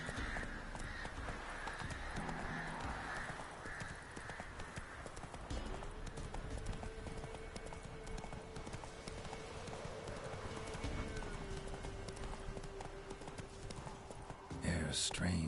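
Horse named Roach galloping in a video game, its rhythmic clip-clop hoofbeats running steadily throughout under ambient game sound and a voice, with a brief louder rustle near the end.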